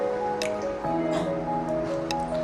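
Water drains from freshly made homemade mozzarella cheese curds, with soft drips and squishy wet sounds over a steady tonal background hum, close and fairly quiet, with no talk.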